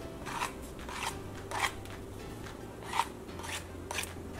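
Tart crust dough being trimmed around the edges, giving a series of soft, crisp snipping or cutting sounds spaced roughly every half second, close and fairly quiet with no talking.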